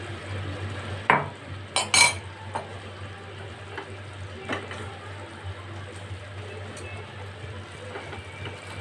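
Pointed gourd pieces are stirred into a yogurt paste in a pan. A few sharp utensil clinks and scrapes come early, followed by quieter, intermittent stirring over a low steady hum.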